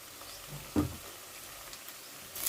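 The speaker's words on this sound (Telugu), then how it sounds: "ఉల్లిపాయలు వేగుతున్నాయి ఇది అల్లం వేస్తున్నా" Onions and ginger frying in oil for Andhra fish curry, a soft steady sizzle with a brief louder crackle near the start and another flare at the end, no talking.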